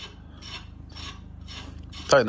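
Wheel spacers being tightened on a car hub with a ratchet, a close, rapid rhythmic clicking that runs steadily for about two seconds before a sharp metallic clunk at the end.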